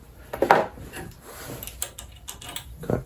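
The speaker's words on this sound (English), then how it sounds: "And then you can pull off this cover right here." A plastic cover is worked loose and pulled off an Ariens Deluxe 30 snowblower, with a sharp scrape and clack followed by quieter rubbing, shuffling and light knocks, close by.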